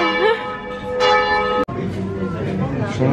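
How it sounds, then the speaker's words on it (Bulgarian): Church bell tolling at twelve o'clock in Venice, its ringing harmonics sustained and clear, with a loud strike partway through and voices murmuring faintly beneath. "12 часа и бие камбана."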